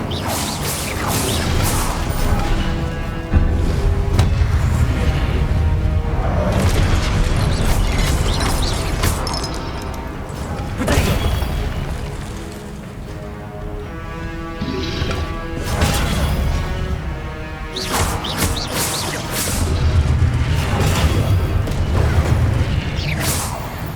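Dense spell blasts, crashes and whooshes from the Hogwarts Legacy video game, loud and continuous with layered impacts and game music-like tones throughout.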